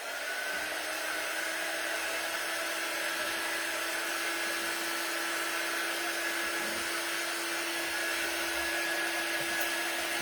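A gingerbread man decoration is dried with a continuous, even blowing whine like a hair dryer, running steadily from start to finish without any speech.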